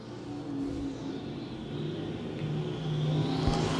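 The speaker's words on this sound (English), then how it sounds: "American Racer Stock Cars here at I-35 Speedway" Stock cars in an American Racer event at I-35 Speedway produce a steady, fairly distant engine drone that builds slightly in intensity, with no voices.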